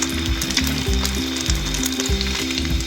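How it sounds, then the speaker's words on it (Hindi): Aloo tikki potato patties coated in egg fry in oil with a loud, continuous close sizzle, and rhythmic background music runs underneath. "इसी तरह बारी बारी सारी टिक्कियाँ डालते जाएंगे और इनको फ्राई करते जाएंगे।"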